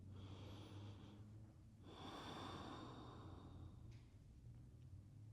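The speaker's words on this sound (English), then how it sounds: "So just take a few breaths here." Slow, deep breaths during a relaxation and balance exercise, soft and close, with a long inhale swelling near the middle and quieter exhales on either side, over a steady low background hum.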